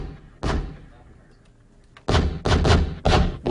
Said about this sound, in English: Then I'll take a very short-lived explosion.